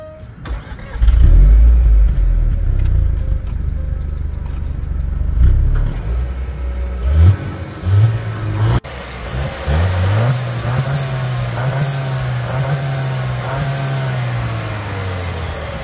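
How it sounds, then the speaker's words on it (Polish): 2023 Range Rover Evoque with a 2.0-litre four-cylinder petrol engine making 300 horsepower, starting with a low rumble, revving in several short bursts, then holding a steady rising drone, loud and close with no talking. "znajdujemy tam dwulitrowy, czterocylindrowy, benzynowy silnik o mocy 300 koni mechanicznych."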